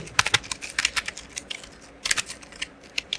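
A computer keyboard typed on while entering C code, with quick bursts of crisp key clicks separated by short pauses, close and clear with no talk.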